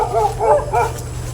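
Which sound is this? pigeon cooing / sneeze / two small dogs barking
two small dogs barking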